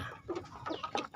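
Chickens cluck in short, soft bursts nearby, a few quick calls scattered across a brief moment with no one talking.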